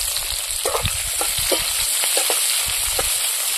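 Bay leaf and raw onion frying in hot oil in a pan for a Bengali mutton curry, a steady close crackling sizzle with scattered spattering pops and stirring scrapes.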